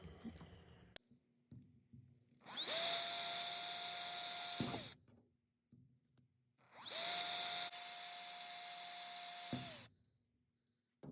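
Two long bursts of a power drill whining at steady high speed while drilling holes in a basket, each lasting about two seconds, with short quiet pauses between and around them.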